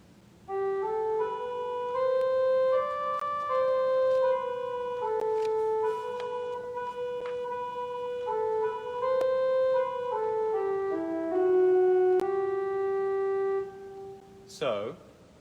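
A Bach chorale setting of the Lutheran hymn Allein Gott in der Höh plays as slow, sustained chords with a clear moving melody, loud and steady, cut off near the end by a brief voice.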